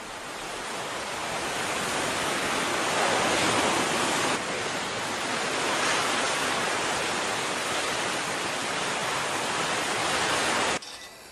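Sea waves breaking near Isla Negra on the Chilean coast by Valparaíso make a steady, full surf roar that holds for about eleven seconds, then drops away abruptly at the end.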